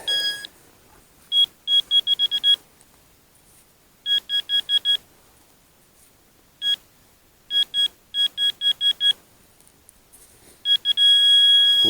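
A metal detector gives bursts of high, clear beeping tones in quick repeated groups, separated by short quiet gaps, fairly loud and close.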